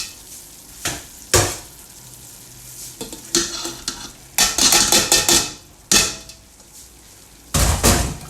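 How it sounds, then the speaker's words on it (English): Minced beef is added to a pan for bolognese, bursting into loud sizzling frying in repeated surges as it is stirred, with clattering spoon and pan knocks between the bursts. "I'm now going to add the beef to this."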